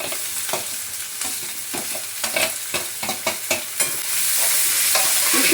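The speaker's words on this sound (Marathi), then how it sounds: "कांदा चांगला असं परतून घेते." Two chopped onions sautéing in a hot pan give a steady sizzle, broken by a run of sharp scraping stirs that grow denser before the frying hiss swells louder.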